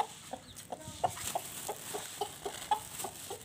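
A chicken fed millet calls with a series of short, rhythmic clucks, fairly close and moderately loud, repeated steadily with no talking.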